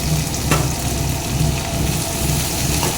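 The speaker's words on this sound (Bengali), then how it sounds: "এবার একটু লাল লাল করে ভেজে নিচ্ছি" Onions sizzle and fry in hot oil in a wok for a chicken curry, a steady, close hiss with occasional faint scrapes of stirring and no talking.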